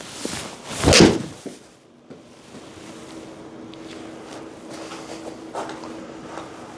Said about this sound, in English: I'm going to step in and take a shot.